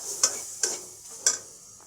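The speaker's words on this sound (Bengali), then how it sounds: "নাড়তে হবে" Spices, chilli, coriander and garam masala powder, stirred in a pan with three distinct scraping strokes of a spoon over a faint background sizzle, no voices.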